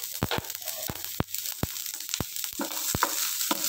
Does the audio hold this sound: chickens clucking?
no